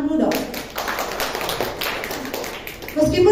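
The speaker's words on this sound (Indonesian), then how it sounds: "Kasih tepuk tangan dulu dong." A church congregation at a Sunday worship service breaks into brief applause, scattered claps rising and fading over roomy background noise, with a voice talking faintly at the start and end.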